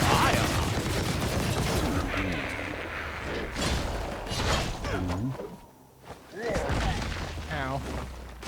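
Gunfire and mechanical clatter in the video game Biomutant, rapid shots and creaking machinery mixed in a busy, dense game soundscape under a talking voice.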